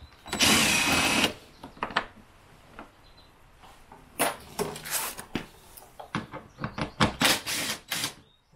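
Power driver backing T30 bolts out of a Ryobi RM480Ex battery riding mower, heard as one long whirring burst followed by several short, uneven bursts and clicks, close and fairly loud.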